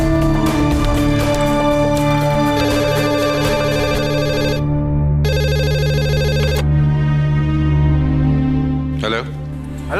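A telephone rings in two short bursts inside a home during a Hindi drama scene, heard over a steady musical score with people talking around it.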